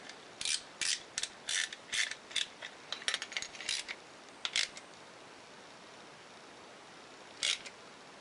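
Ratcheting clicks from tightening a nut while rebuilding a Polaris 400L starter, in close bursts of short mechanical ratchet clicks, about a dozen quick pulls in the first four seconds, then a lone burst near the end.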